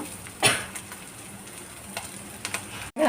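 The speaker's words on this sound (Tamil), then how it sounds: "நல்லா வந்து பொரிஞ்சிச்சு" Cumin seeds crackle and sizzle in hot oil in a pan, with a steady frying hiss and a few sharper pops; no voices.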